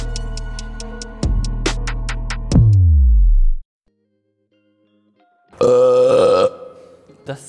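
A loud, long guttural burp erupts in a new studio, rumbling and tapering off, followed after a brief silence by a second raspy belch-like blast, with faint clicking ticks before it.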